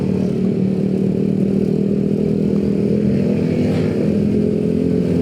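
An automatic motor scooter climbs a steep road toward the Puncak Ciguntur basecamp near Bogor, with its engine droning loud, close and steady throughout, rising slightly as it strains uphill, and no talking.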